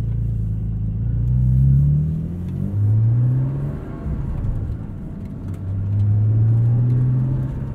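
A 2021 Porsche 718 Cayman GTS 4.0 engine with manual gearbox revs up and settles repeatedly with a deep, rumbling exhaust note, close and loud, with no talking.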